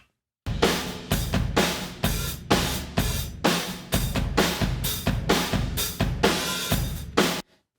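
A drum kit plays a steady beat, heard from across a large room with roomy, reverberant hits and cymbals ringing between strokes.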